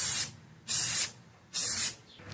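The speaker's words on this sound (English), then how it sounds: "I'm about to spray over this, and so the lettering will be white." A spray paint can spraying white paint over a mountain bike frame hisses in three loud, close bursts of about half a second each, separated by short pauses.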